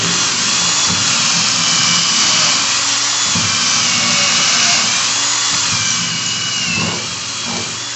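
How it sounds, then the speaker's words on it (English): A power drill bores a pilot hole for a bolt in wood while building a bathroom vanity base, with a loud, continuous motor whine that holds steady, then eases slightly near the end. "I'm gonna make my pilot hole."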